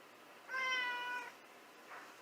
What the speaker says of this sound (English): Guys, let me show you my cat.